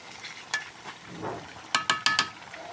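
A mixture is stir-fried in a pan, soft sizzling with a few scattered scrapes and then a quick burst of four sharp spatula clanks against the metal.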